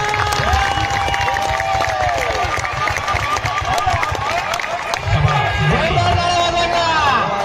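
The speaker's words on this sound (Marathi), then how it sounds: "जोरदार टाळ्या वाजवा" A large outdoor crowd at a competition clapping and cheering continuously, with whistles and a babble of voices, while an announcer talks loudly over the noise.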